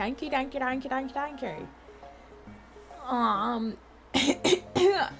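Talking, then a few sharp coughs in quick succession close by, following a pause and more speech.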